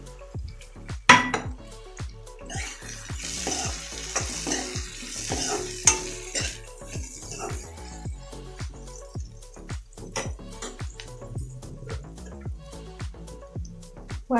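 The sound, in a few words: stirring fried soybean chunks in a sizzling pan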